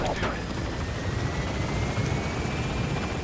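A helicopter arriving in the video game Metal Gear Solid V: The Phantom Pain, a dense, steady rotor wash and turbine roar filling the whole stretch, loud and close, with a faint high engine whine above it.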